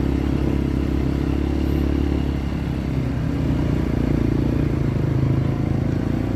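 Trail motorcycle carrying riders on a rough, bumpy uphill track toward Umbul Sidomukti on Mount Ungaran, engine droning steadily and loudly close by with clattering and scraping from the rough ground throughout.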